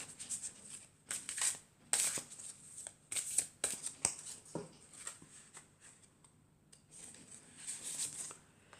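Oracle cards being shuffled by hand in several close, crisp bursts of riffling and patter, separated by short pauses, with no talking over them.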